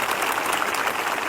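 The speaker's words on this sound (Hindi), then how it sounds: "एक जोरदार ताली बजाएं।" A church congregation claps loudly together at a live prayer service, a dense continuous burst of applause heard up close without any talk over it.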